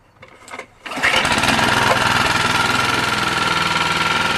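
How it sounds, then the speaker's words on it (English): A Honda HR214 lawn mower with a GXV120 engine, freshly fitted with new piston rings and oil seals, catches after a brief pull-start rustle and settles into a loud, steady running drone close by. "Honda HR214 mower. It's got the GXV120 engine."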